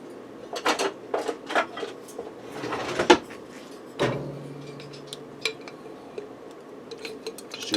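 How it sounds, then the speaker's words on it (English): A spoon clinks and scrapes inside a glass jar of Alfredo sauce, with several short knocks and a sharp clack partway through, close by and without speech. "let me grab a spoon to get the Alfredo sauce out of the jar"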